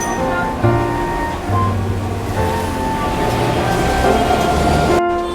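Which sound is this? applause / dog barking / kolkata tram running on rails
kolkata tram running on rails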